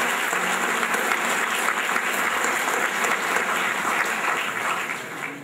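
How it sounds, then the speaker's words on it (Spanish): A congregation at Our Lady of Guadalupe Catholic church claps during Mass, an even, full round of applause holding steady throughout before easing off at the very end, with no voices over it. "Démosle un aplauso al hijo"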